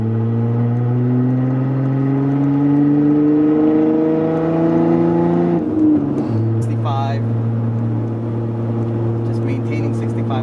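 A 3.6-litre Jeep Wrangler Rubicon JL with muffler and resonator deleted revs hard, its loud droning exhaust tone climbing steadily before dropping back to a lower steady hum, with a brief voice near the end.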